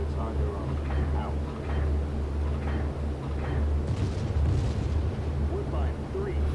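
Bombs dropped from an aircraft in the IL-2 flight simulator game explode as deep, rumbling booms beneath a constant loud engine drone, with a swell of blast noise partway through and radio voices talking over it.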